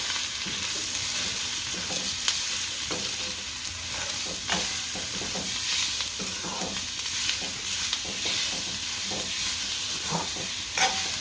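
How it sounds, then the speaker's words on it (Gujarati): Veg Hakka noodles tossed with masala in a hot pan sizzle steadily throughout, with repeated scraping stirs of a spatula rising over the continuous frying hiss, close and fairly loud, no voices. "હવે હલાવી નાખશું"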